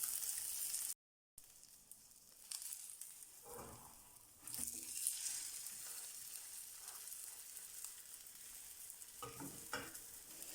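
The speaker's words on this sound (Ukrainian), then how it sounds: "накриваємо, жаримо спочатку з однієї сторони, тоді перевернемо на іншу" Breakfast patties fry in a covered pan, giving off a steady crackling sizzle that drops out for a moment near the start, then carries on evenly with small spits and pops.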